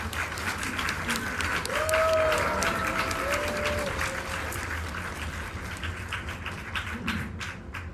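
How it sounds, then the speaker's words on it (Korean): An audience in a cinema hall at a film guest-visit event applauds steadily as the director and an actress of the film Witch 2 are welcomed. The clapping is dense and continuous and fades slightly toward the end. "큰 박수로 맞이하겠습니다"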